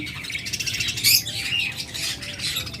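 Pet lovebirds, including a creamino female, chirp in a breeding cage with newly hatched chicks, giving a quick string of close, bright tweets and squeaky calls that rise and fall without pause.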